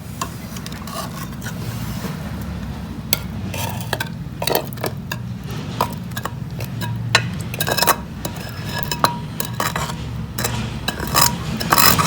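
A spoon scrapes and knocks against a metal pan as freshly cooked amla murabba is scooped out into a vessel, giving repeated irregular clinks and scrapes over a low steady background hum.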